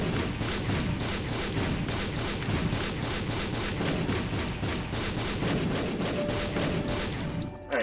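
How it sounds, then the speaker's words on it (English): A chain of fireworks-like explosions from quick bombs in the video game The Binding of Isaac: Afterbirth+. Dense, rapid bursts pop continuously at a steady, loud level, like a fusillade, and stop abruptly near the end. "That was worth the fireworks display at the end."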